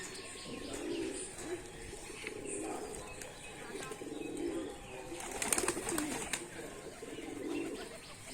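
Giribaz pigeons being fed mustard seeds coo softly and repeatedly at close range, a low murmuring chorus with occasional sharper chirps and light rustling, and people talk quietly throughout.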